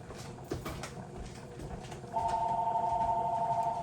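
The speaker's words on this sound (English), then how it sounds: "There goes the phone, of course." A phone rings in a home kitchen during cooking: a steady electronic ringing tone starts partway through and continues loudly over quiet room noise.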